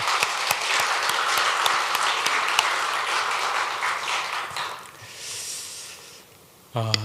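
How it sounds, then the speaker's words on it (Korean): A church congregation claps during a Sunday service, dense applause that continues for several seconds, then thins and fades near the end before a brief louder sound cuts in. "마스크를 벗고 찬양케 해주신 우리 하나님께 영광의 박수 한번 드리겠습니다"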